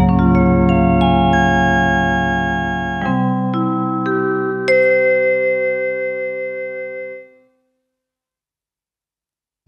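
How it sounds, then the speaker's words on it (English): Vibraphone voice on a Montford MFDP9 digital piano: notes ring out with soft mallet attacks and a gentle shimmering tremolo, layered into a chord that slowly fades to silence. "A vibraphone, a cool sound like this."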